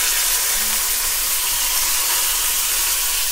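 Crushed garlic sizzles steadily in hot oil in a pan for a Tamil-style paneer kuzhambu, a loud, continuous hiss with no pauses and no talk.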